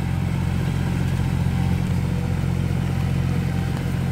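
A Euro 45 Plus 4WD tractor with a 3-cylinder 2761 cc, 47 HP diesel engine runs close by, giving a loud, steady, throbbing mechanical drone with slight clatter throughout.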